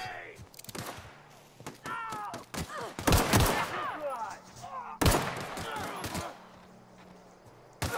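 Gunfire in The Outer Worlds: several loud, close shots and short bursts crack out at irregular intervals, mixed with speech and in-game voices.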